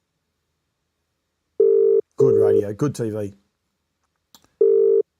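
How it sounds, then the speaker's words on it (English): A telephone ringback tone on an outgoing call purrs in two steady bursts, with a voice speaking briefly between them. "Clearly, as you can hear, the ringing's coming through, so it is working."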